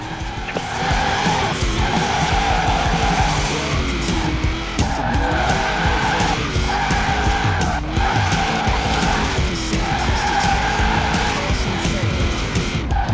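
A car drifting in Forza Horizon 4 roars loudly with a revving engine while tires squeal in repeated long skids, the pitch rising and falling through each slide.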